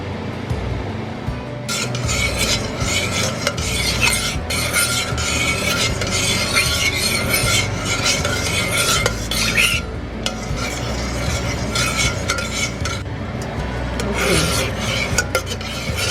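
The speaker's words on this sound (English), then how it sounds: "See how it starts to simmer a little bit, like that, bubble a little bit" Coconut cream with a pinch of salt gently simmering in a pot while a utensil scrapes and stirs steadily, loud close rasping strokes over a low bubbling base, with a brief pause near the middle.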